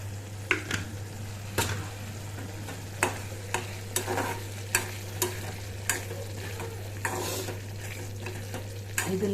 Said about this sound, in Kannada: ಇದನ್ನು ಚೆನ್ನಾಗಿ ಕುದಿಸ್ತಾ ಇದ್ದೀನಿ.